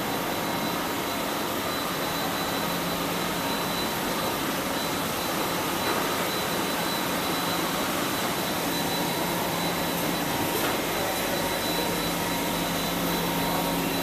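A Heidelberg GTO offset printing press runs in a Quran printing factory, giving a loud, continuous mechanical whir and hum that stays steady without pauses.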